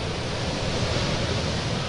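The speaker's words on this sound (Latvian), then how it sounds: "Ļoti stiprs vējš." Very strong wind blasting outdoors during a storm, a steady, loud broadband roar with constant rumbling gusts and no pauses.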